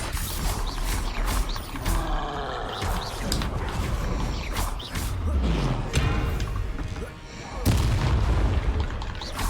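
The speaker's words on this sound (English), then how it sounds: "Bombarda. Confringo. Expelliarmus. Stupefy. Defendo." Spell explosions from Bombarda and Confringo in the Hogwarts Legacy video game boom repeatedly over a dense, continuous battle din with roaring creatures and crashing impacts, loud throughout.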